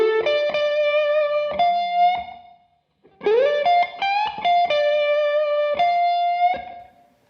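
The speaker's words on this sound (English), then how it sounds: "So nice and slow, the lick will sound like this." Slow blues lick on electric guitar with lightly driven tone, close and loud, a few picked notes with pronounced string bends sliding up to pitch, held sustain, a brief pause, then the phrase repeated and ringing out.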